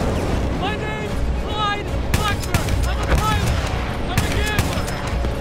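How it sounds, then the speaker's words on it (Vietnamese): Rapid gunfire from a Battlefield 1 battle on PC rattles in quick bursts, with sharp shots and booms repeating over several seconds. Whistling and whining effects cut through at times, and voices are heard briefly. "Cái súng nó bắn đã vậy."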